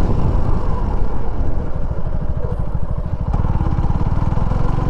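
A Suzuki V-Strom 250 motorcycle is ridden along a road, its engine holding a steady, close, loud drone with a rapid pulsing beat and rushing wind throughout.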